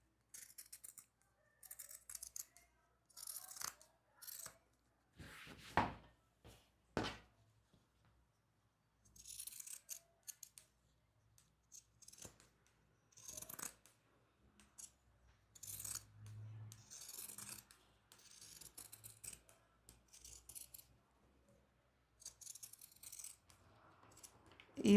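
Scissors trim the edge of a sewn fabric seam on a small handmade sheep, producing quiet, close, intermittent snips and crisp cuts in irregular bursts with pauses between them.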